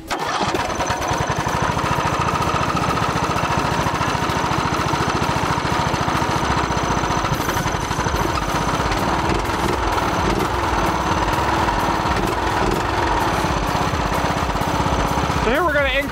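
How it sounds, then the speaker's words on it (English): A Cummins diesel engine with a P7100 injection pump starts up and runs steadily at close range, a loud rattling mechanical clatter with a voice speaking underneath. "we're gonna start up the engine really quick"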